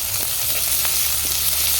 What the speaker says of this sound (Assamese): কেৰাহীখনত আকৌ অলপ তেল দি পিঁয়াজখিনি দি দিছোঁ